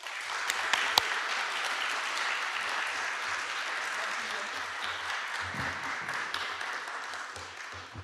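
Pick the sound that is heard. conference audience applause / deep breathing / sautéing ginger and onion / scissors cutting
conference audience applause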